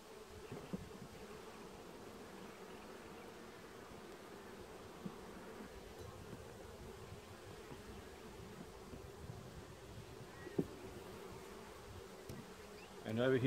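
Steady, low droning hum of many honeybees buzzing close by in a hive, continuous and fairly quiet, with a faint knock or rustle at the end.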